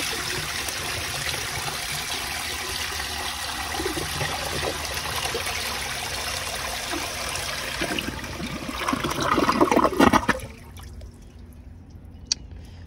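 An American Standard Cadet space-saver toilet flushing a dish towel: a steady rushing, gurgling water flow that swells toward the end, then drains away into near quiet with a faint trickle, close and without talk.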